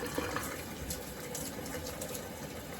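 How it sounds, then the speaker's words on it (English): Water is let out of a canner in a home kitchen during apple canning, a steady close gushing pour that continues evenly throughout with no talking. "I'm getting ready to let this water out of here first"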